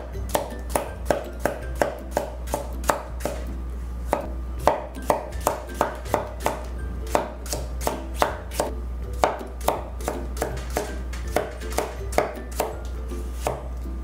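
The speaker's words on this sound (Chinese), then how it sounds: "小黄瓜切丝，先去头、去尾， 分成3等份" Knife shredding cucumber into thin strips on a cutting board, a steady run of crisp, evenly spaced chops close up, with no talk.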